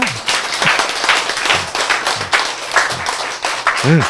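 A church congregation claps during a Korean sermon, loud and close, with the clapping in uneven bursts and brief voices or exclamations cutting in between.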